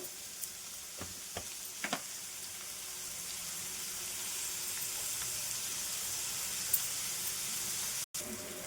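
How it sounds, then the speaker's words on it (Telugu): Sliced onions with curry leaves and salt frying in oil in a pan for an Andhra-style colocasia tamarind stew, a steady soft sizzle with a few faint stirring taps early on. "ఉల్లిపాయలు వేగుతున్నాయండి, ఇంకా వేగాలి."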